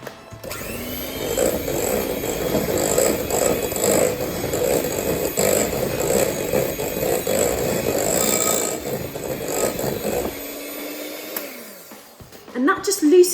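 Egg whites being whisked into melted chocolate for a chocolate mousse, a loud continuous whirring buzz with rhythmic scraping that runs for about ten seconds, then stops, followed by a brief clatter.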